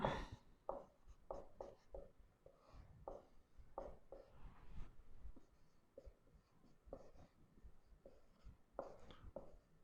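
Chalk or pen writes on a board in a quiet room, with a series of short, faint scratching strokes in irregular bursts and pauses between words.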